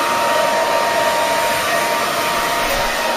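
A hair dryer blows loud and steady at close range, drying a wet dog, a constant whooshing roar with no talk over it.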